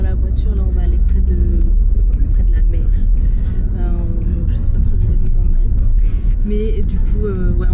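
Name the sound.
car driving, heard from inside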